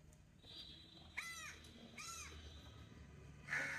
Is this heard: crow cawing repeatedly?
yes